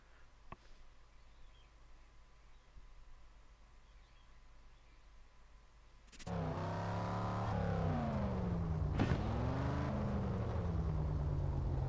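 A car engine in Need for Speed No Limits sits at a quiet idle, then roars to life as the race starts, revving up and down through gear changes, loud and sustained.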